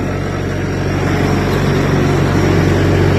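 A logging skidder's engine idles up steadily on its hand throttle, a loud, constant low diesel rumble with a steady drone and no voices over it.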